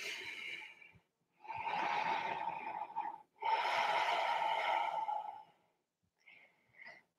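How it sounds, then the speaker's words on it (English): Deep, audible breaths during a yoga pose on blocks, long breathy inhales and exhales in close succession with gaps of silence between, plus a couple of shorter faint breaths at the end. "three more breaths"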